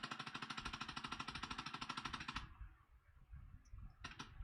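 Rapid full-auto P90 gunfire simulated by a ProTubeVR Forcetube haptic module, a fast, steady mechanical rattle of dense thumps for about two and a half seconds that then stops, followed by quieter handling clicks and one brief burst near the end.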